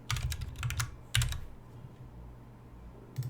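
Computer keyboard typing in quick bursts of close, crisp key clicks, pausing briefly before a last short flurry, with no talk.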